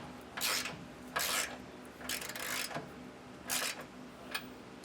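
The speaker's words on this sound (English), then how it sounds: "I'm gonna just snug each nut down before I torque them." A wrench snugs down U-bolt nuts on a Hellwig adjustable rear anti-sway bar, producing several quiet rasping ratchet bursts in an uneven rhythm, close and faint.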